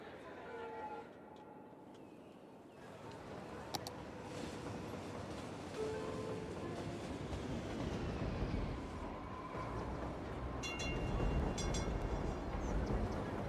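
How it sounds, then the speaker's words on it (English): A train in the video game Cities: Skylines rumbles in with a low continuous roar and clattering, gradually building, with faint chatter and a few bright metallic tones. "Oh wait, there's a train coming."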